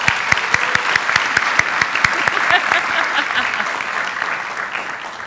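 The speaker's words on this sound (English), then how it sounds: "So let's give her another round of applause." Applause for an honoree at a school board of education meeting, steady crowd clapping of moderate loudness with a few sharp individual claps standing out near the microphone, fading slightly toward the end.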